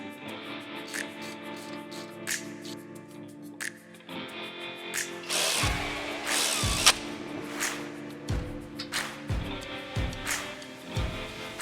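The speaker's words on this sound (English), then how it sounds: "we need to unbolt our sway bar link, various brackets, and our tie rod." Wrenches and tools work loose the sway bar link and brackets on a Toyota 4Runner during a lift kit install, with clanks and ratcheting bursts near the mic and a run of sharp metallic hits in the second half.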